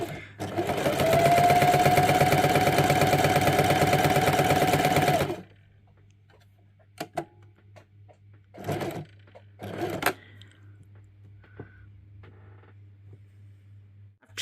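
A sewing machine quilting with a walking foot at stitch length 2 runs in one loud, steady whir for about five seconds, then stops; faint handling clicks and thumps follow.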